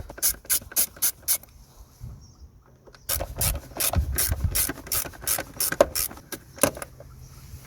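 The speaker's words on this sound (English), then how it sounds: "Just going to start removing these screws." Phillips screws being backed out of a plastic cover on a Citroen C3 1.4 during a service, with quick bursts of close ratcheting clicks, a short pause, then a longer run of steady rhythmic ratchet strokes.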